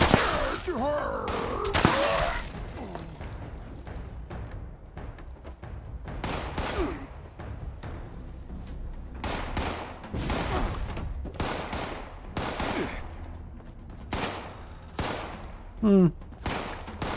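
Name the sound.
shotgun gunfire in a video game (Fallout 76)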